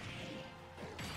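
An up smash attack in Super Smash Bros lands with a short whooshing swing and a sharp crash-like impact, bright hits closing the brief burst over faint game background noise.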